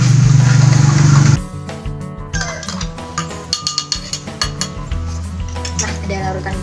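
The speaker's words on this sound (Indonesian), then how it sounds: "Selanjutnya aduk dengan sendok yang berbeda." Clinking of a metal spoon against glass, with quick rhythmic taps and scraping as a sugar, milk or coffee solution is stirred, following a brief low hum at the start.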